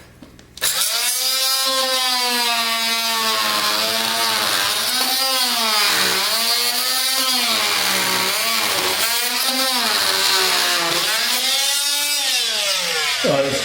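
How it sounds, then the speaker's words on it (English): Oscillating multi-tool with a saw blade cutting a half-inch notch in walnut hardwood flooring: a loud, steady buzzing whine that rises and falls in pitch as the blade bites, running continuously for about thirteen seconds with no talk. "I bought this new oscillating vibratory tool with a saw blade on the end"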